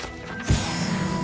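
A Confringo fire-blast spell cast in Hogwarts Legacy lands as one sharp, punchy impact burst with a low thump, then fades into a soft sustained rumble.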